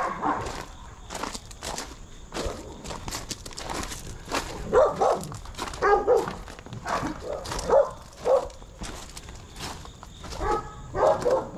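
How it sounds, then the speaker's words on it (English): Many puppies barking at a humane society in Newport, Tennessee, a steady chorus of overlapping yips and barks from behind a fence, some near and loud, others farther off, with footsteps mixed in. "I hear lots of puppies barking."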